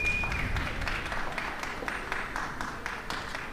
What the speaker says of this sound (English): We've got fans clapping.